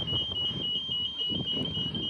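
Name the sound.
pedestrian crossing warning beeping for Midland train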